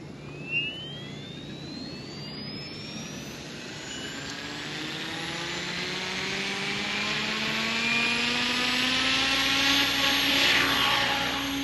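An XL Power Nimbus 550 RC helicopter spools up from its motor starting into a hover, the whine rising steadily in pitch and loudness over several seconds, close by, with no talking.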